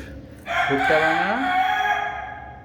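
Native chickens in a farmyard call out at feeding time with crushed maize mash, and a rooster crows loudly and close for a couple of seconds above low clucking.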